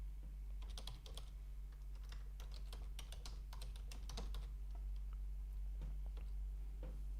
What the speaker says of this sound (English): here you need to type in your domain name.